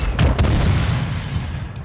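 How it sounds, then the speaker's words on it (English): An airstrike explosion in Call of Duty Modern Warfare II lands as a deep, rumbling boom that swells and slowly fades over a couple of seconds, loud and without voices. "I'm gonna put an airstrike on him."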